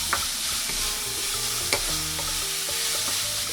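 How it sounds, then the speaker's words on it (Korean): Loud, steady sizzling of vegetables frying in a hot pan, with occasional scrapes and taps of stirring. "피망 반개 다진 걸 넣어주시고 함께 볶아줍니다"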